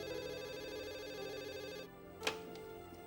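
A telephone rings with a steady electronic tone that cuts off partway, followed by a single sharp click, heard in an indoor drama scene.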